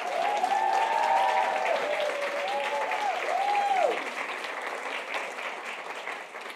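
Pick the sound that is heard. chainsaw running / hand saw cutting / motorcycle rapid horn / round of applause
round of applause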